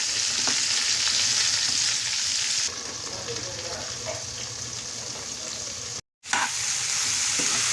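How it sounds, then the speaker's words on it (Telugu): Vegetables with coconut fry in oil under a steady loud sizzle, with a few stirring scrapes. The hiss drops partway through and cuts out briefly before resuming. "బాగా కలుపుతున్నాను ఇంకొకసారి."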